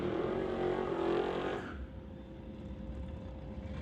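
Hot rod drag cars finish their burnouts at a drag strip, a loud broad roar that cuts off abruptly after about a second and a half, leaving a quieter idling rumble.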